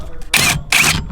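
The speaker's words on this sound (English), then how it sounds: "Just make sure that we torque this to spec." A torque wrench clicks while tightening the steering wheel nut on a BMW E36, giving sharp, close mechanical snaps in quick succession with short gaps between them.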